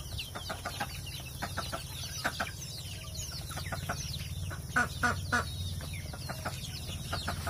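Free-range desi (Indian native) chickens cluck and chatter in short, irregular bursts, several birds fairly close, over a steady low background hum.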